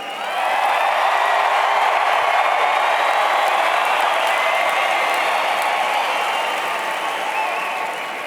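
Families cheer and applaud at a 2016 graduation ceremony for ECOT, a dense, steady wash of clapping and crowd noise from a large audience, sustained at full strength for several seconds with no talk over it.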